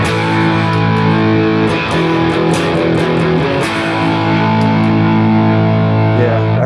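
Electric guitar run through a Mooer Red Truck distortion with the boost engaged, giving a loud, thick, sustained distorted tone with steady chords and no pauses.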